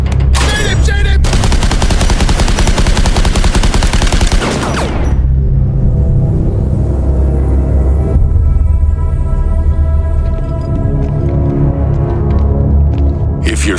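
Heavy, continuous automatic gunfire aimed at Batman during a boss fight in the video game Suicide Squad: Kill the Justice League, loud sustained bursts for several seconds, then a quieter stretch with lingering rumble and scattered shots.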